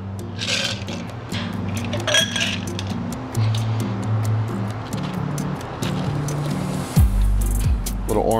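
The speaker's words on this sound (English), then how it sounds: "Pour it over a nice single cube." A cocktail from a mixing glass is poured over a single large ice cube in a glass, with light clinks and a steady liquid pour set against music and room sound.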